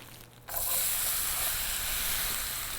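Onions sizzle loudly in a pan of melted butter and olive oil, a bright steady hiss that bursts in as they hit the fat and holds evenly, with no voices.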